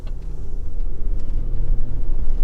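Land Rover Discovery 4 SDV6 diesel sitting stationary as its air suspension raises the body on its own, a steady low rumble and hum held at an even level throughout with no talking.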